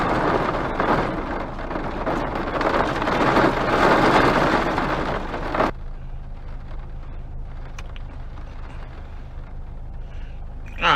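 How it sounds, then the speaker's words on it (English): Heavy rain pouring onto a car at a gas station, a dense loud hiss that stops abruptly after about six seconds, leaving quieter scattered drips and low ambient rumble. "as soon as it stop raining"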